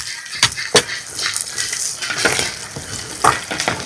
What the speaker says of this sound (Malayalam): ഇഞ്ചിയും പച്ചമുളകും ഒന്ന് നമുക്ക് വഴറ്റിയെടുക്കണം